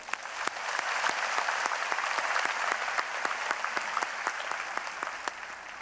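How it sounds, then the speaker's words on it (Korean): A large congregation at a joint Korean Easter service applauds the combined choir, steady dense clapping with sharp individual claps standing out, rising quickly and holding at a moderate level throughout. "우리 연합 찬양 대원들을 격려하는 박수 한번 보내줍시다"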